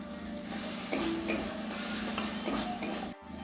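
Chopped tomatoes go into a spice paste frying in a pan for a Bengali paneer and potato curry, giving a steady close sizzle with a few soft stirring knocks.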